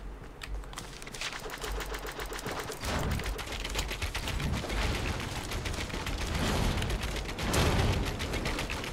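Gunfire crackles in a Fortnite battle royale match, rapid mechanical shots and bursts mixed with sharp cracks and heavier thuds, some close and loud, others scattered, running continuously with no one talking.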